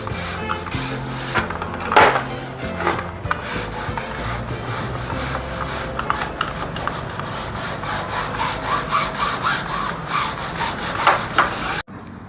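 Steady back-and-forth scrubbing of a brush over dusty window mesh screen during house cleaning, a continuous rasping rub with rhythmic strokes, close and fairly loud throughout.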